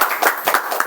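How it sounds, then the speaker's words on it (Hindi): A church congregation at a Sunday prayer meeting claps loudly together in a brief, dense burst of irregular hand claps, close and full. "जोर से ताली बजाइए"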